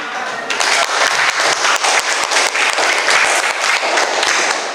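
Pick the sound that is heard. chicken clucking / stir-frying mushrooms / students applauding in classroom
students applauding in classroom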